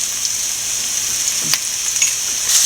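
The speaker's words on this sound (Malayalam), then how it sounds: "അതിലോട്ട് നമുക്ക് സവോള ഇട്ട് കൊടുക്കാം സവോള കുറച്ച് വാടി കഴിയുമ്പോഴത്തേക്കും" Sliced onions sauté in a pan for chicken roast, a steady close hissing sizzle with a few faint stirring clicks and no voices.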